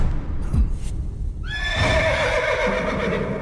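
A horse neighs in the video game Metal Gear Solid Peace Walker, a rising whinny that breaks in at mid-clip and trails off over a steady background bed, with a faint earlier thump.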